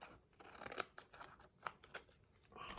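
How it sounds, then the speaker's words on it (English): Scissors trim the edges off a stamped paper craft piece, with quiet, close snips and crisp paper rustles arriving in short, irregular bursts. "once we've got all our pieces stuck, I'm going to trim the edges off"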